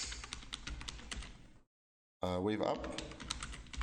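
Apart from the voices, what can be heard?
typing on a computer keyboard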